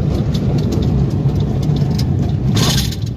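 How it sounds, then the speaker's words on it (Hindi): A car rolls at about 40 km/h along a rough, rain-damaged highway, its steady engine drone and road rumble loud and close throughout, with a brief swell of noise near the end. "देखो गाड़ी 40 की स्पीड में चल रही है"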